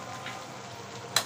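Kakrol bhaji frying in a pan, a soft steady sizzle at low level with one brief sharp clink of a spatula near the end.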